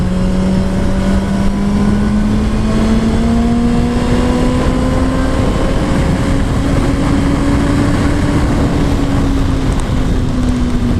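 A Kawasaki ZX-10R motorcycle accelerates on a highway, its loud, close engine note climbing steadily and then holding high under heavy wind roar.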